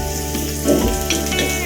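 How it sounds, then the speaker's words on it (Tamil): Pepper, cumin and garlic roast in a pan for drumstick leaves soup, a brief close crackle and sizzle over a steady hum. "மிளகு, பூண்டு எல்லாம் கொஞ்சம் செவக்க வறுக்கணும்."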